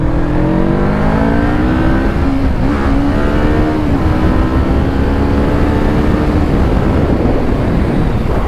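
Car engine revving as the car accelerates on the road. The drone is loud and continuous and rises steadily in pitch under heavy wind noise. No speech.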